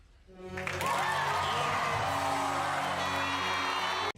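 A large crowd erupts into cheering, whooping and sustained applause, building quickly from quiet into a loud, dense roar that holds steady before cutting off abruptly.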